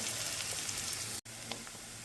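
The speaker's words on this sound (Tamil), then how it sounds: "நான் ஒரு ஸ்மால் சைஸ் ஆனியன் வந்து கட் பண்ணி வச்சுருக்கேன். அதை போட்டு நல்லா வதக்கணும்." Small cut onion sautéing in a pan with cumin for a meal maker pepper fry: a soft, steady sizzle close by, briefly cut off for an instant before resuming.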